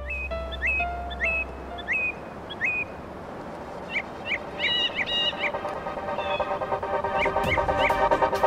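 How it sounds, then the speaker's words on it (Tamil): A hen clucks alone in a rural outdoor setting, with repeated short calls spread through the clip over steady background noise and other bird chirps near the end. "கோழி தனியாக போகுது"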